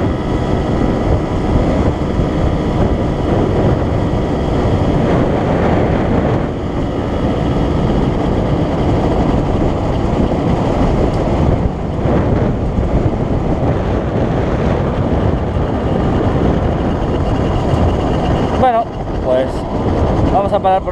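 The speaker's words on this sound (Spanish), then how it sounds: "Ya habéis visto que a la moto, desde luego que a tope la he puesto" A Derbi Senda 50 motorcycle with a new exhaust and upgrades runs at full throttle toward top speed, giving a loud, sustained engine drone mixed with heavy wind buffeting for the whole stretch.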